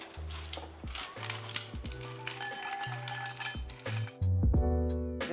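Ice cubes drop into a bar glass for a bourbon cocktail, making a run of bright clinks and rattles that knock against the glass one after another, close and fairly loud, with a louder clattering pour near the end.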